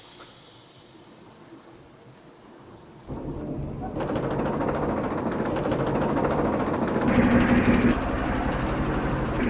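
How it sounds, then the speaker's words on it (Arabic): A dedicated carpet drying machine runs with a steady broadband mechanical whir and hiss, starting quieter and then jumping to a louder, fuller roar after a few seconds and holding constant. "مرحلة التجفيف، ماكينة مخصوصة لتجفيف السجاد."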